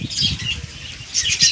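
Domestic pigeons flying over a house rooftop give brief, close bursts of flapping wings, two quick flurries separated by a short lull.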